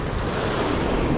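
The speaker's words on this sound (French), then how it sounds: "il y a une vague qui monte, c'est vraiment une plus grosse que les autres" Sea waves breaking on a rocky shore during shore fishing, a constant loud wash of surf mixed with wind buffeting the microphone.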